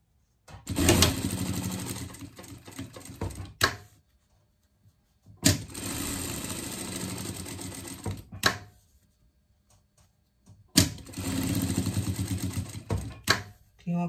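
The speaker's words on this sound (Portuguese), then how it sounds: "Cria uma costura de segurança." A sewing machine runs a safety seam on a small pet garment in three bursts of several seconds each, a loud, fast mechanical whirr with brief quiet gaps between runs.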